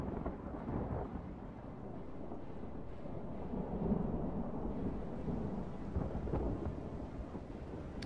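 Rain and rolling thunder in the Total War game, a steady heavy wash with low rumbles swelling through the middle, continuous and fairly close with no voices.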